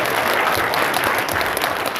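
A crowd applauding steadily at a Korean church-hosted patriotic rally, dense clapping from many hands throughout, fairly loud and close.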